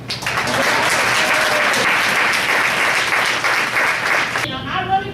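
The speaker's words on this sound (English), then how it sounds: "applause." A community audience at a Habitat housing training event breaks into loud, sustained applause that fills most of the stretch, then cuts off abruptly into quiet room sound near the end.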